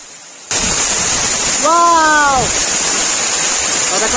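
Cave waterfall at Asurkhol in Keonjhar, Odisha, a steady loud roar of falling water that cuts in abruptly and fills the clip, with a brief voice rising over it midway.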